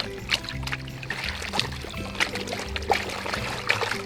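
Water sloshes and splashes as a gold mining mat is washed in a tote, with uneven bursts of pouring and trickling up close and no talk.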